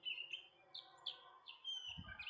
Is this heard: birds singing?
yes